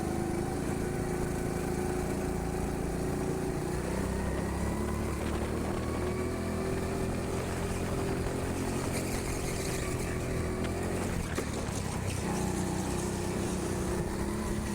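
Petrol go-kart engine at the TeamSport Sheffield indoor track, a steady buzzing drone that rises and falls slightly through corners, heard continuously from on board with no speech.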